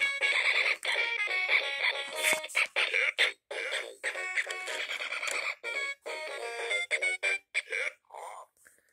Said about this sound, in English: That sound is actually a brass section,